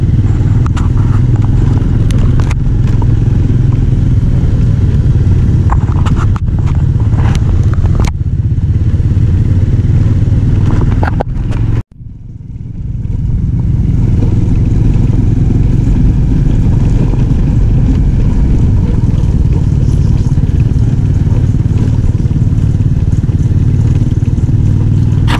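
A motorcycle rumbles steadily over a rough, rocky rural road near Masinloc, Zambales, with rattling and clatter from the jolting ride, loud and close throughout, briefly cutting out around midway before the engine noise resumes.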